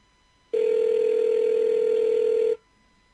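A single long outgoing telephone ring tone, one steady electronic tone lasting about two seconds over quiet line hiss, then silence.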